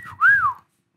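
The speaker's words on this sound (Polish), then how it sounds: "Chociaż jest też gwizdanie, które jest pozytywne." A single short, rising-and-falling whistle from a person, close and clear, lasting about half a second.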